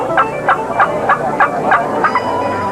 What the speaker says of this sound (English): He'll normally gobble back to it.